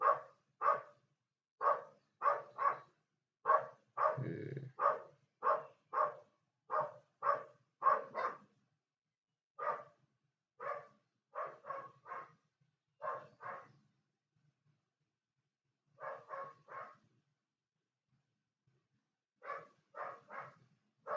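A dog barks repeatedly in quick bursts of two or three, fairly close and loud, with short pauses between volleys and no talking.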